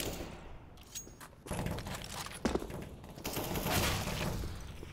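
Rapid gunfire in a CS:GO matchmaking round rattles in close, sharp bursts amid footsteps and thuds, the shots growing denser and louder toward the end.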